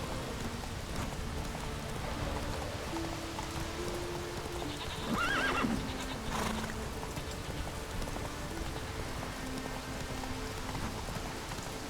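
Horse in The Witcher 3 whinnying once in the middle, with hooves clopping over steady rain pattering on the ground throughout.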